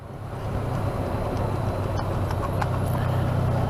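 A horse clip-clops on a road, its hoofbeats heard faintly over the steady rumble of a Honda Crosstourer motorcycle engine and wind noise.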